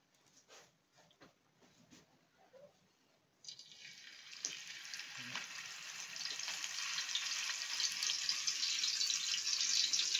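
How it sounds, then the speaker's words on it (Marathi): Pieces of chilapi fish hit hot oil in a pan on a griddle, and a loud, steady sizzle starts partway through and keeps building. Quiet handling sounds come before it. "आता तेल तापला का आपण हे चिलापीचं पीस तळणार आहे"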